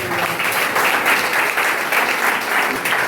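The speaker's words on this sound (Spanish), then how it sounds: "Denle un aplauso al Señor." A church congregation applauds during a sermon, a dense, continuous burst of clapping filling the room, close and even for the whole stretch.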